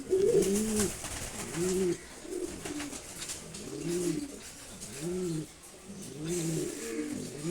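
Pigeons coo repeatedly in soft, rounded rolling phrases, several overlapping calls spaced through the stretch, fairly close and alone without talk.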